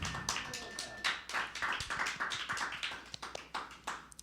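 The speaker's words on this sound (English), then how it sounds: "Can we please get another round of applause for Eva?" A small audience applauds at an evening reading event, a quiet patter of scattered claps and taps lasting a few seconds, close and somewhat uneven.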